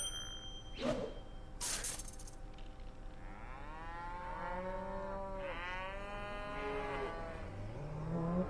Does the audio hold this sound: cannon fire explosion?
no